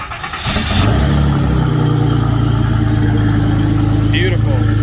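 A turbocharged Datsun 280Z engine with a new exhaust manifold roars up to a loud, sustained high-rev drone on a dyno and holds steady, close and powerful, with a brief faint voice partway through.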